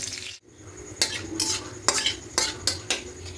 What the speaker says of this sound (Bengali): এবার এখানে দেব গোটা গরম মশলা দেবো দারুচিনি এলাচ লবঙ্গ আর দুটো তেজপাতা দেবো